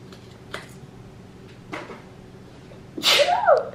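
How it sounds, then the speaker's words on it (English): One loud, sharp sneeze bursts out after several faint kitchen clicks and knocks, set in a kitchen while crushed red pepper is being handled. "Ooh, I'm about to sneeze."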